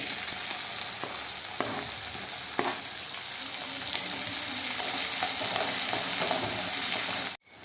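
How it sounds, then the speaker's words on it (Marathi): Red chillies sizzle steadily in hot oil in a pan while being stirred, with scraping strokes from the spoon recurring over the constant close frying hiss. "आता ही मिरची सोडली"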